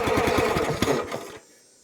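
A cold County Line 25 ton log splitter's small gas engine cranks and sputters briefly, a rapid loud chugging that cuts off abruptly after about a second and a half.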